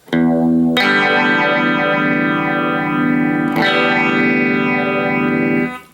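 Electric guitar played through the phaser effect of a Line 6 Micro Spider solid-state amp: loud sustained strummed chords with a sweeping, swirling phase modulation, restruck once partway through, with no voices.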